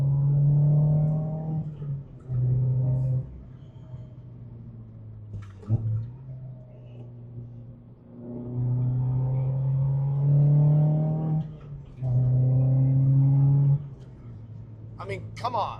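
A Mazda MX-5 Miata ND Club Sport pulls at full throttle in repeated surges, its engine droning and rising in pitch through each gear, heard from inside the car with short lulls between pulls.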